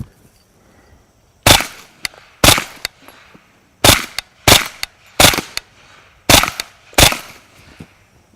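Kriss Vector submachine gun firing at soda cans outdoors, sharp loud reports in spaced single shots and pairs, about eight in total, close and distinct against a quiet background.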